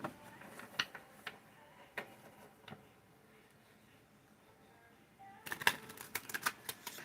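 Soft, scattered tarot card flicks and taps in a quiet room, then a quick burst of rapid shuffling clicks near the end.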